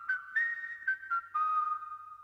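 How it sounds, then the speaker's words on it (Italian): Someone whistles an old song alone, a clear tuneful melody of several short phrases with brief pauses between them, close and fairly soft. "Sorridendo, prese a fischiettare una vecchia canzone e accelerò il passo."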